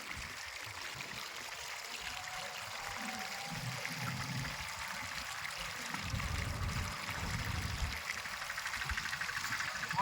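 Irrigation water flows along a channel in a farm field, a steady soft wash and trickle with a low rumbling undertone that swells slightly midway, close by and continuous.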